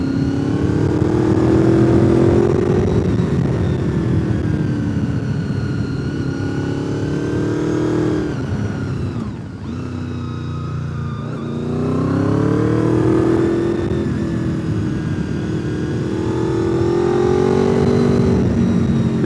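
Big motorcycle ridden through the Deals Gap roads, its engine revving up and easing off in long swells, loud and close, with no talk.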